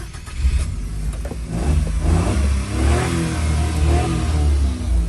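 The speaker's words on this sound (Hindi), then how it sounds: "हम इसको स्टार्ट भी करके देख लेते हैं कि इसका इंजन साबित है कि नहीं।" A 2021 Suzuki Every kei van, sold as an accident-damaged vehicle in Japan, with its engine running and revving steadily for about five seconds, close and fairly loud with a continuous low rumble and no talking.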